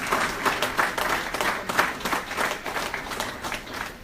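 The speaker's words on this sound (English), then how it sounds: "Can we please put our hands together for both of them as they come up?" Audience applause at a Nigerian nurses' charitable association award ceremony in the UK as a presenter and recipient come up, with steady, full clapping from many hands rising and falling in loose waves.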